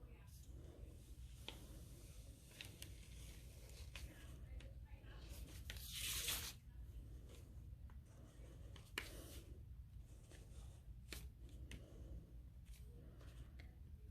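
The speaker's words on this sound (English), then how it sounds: "I'm just drawing on thin white computer paper" A marker scratches and squeaks across thin white computer paper in soft, intermittent strokes, close and faint, with one louder rustle partway through; no voices.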